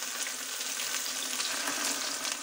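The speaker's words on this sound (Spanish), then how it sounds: "Y lo vamos a sofreír aquí" Pieces of cod sizzle steadily in hot oil in a pan over medium heat, a dense, even crackle and hiss up close with no talking.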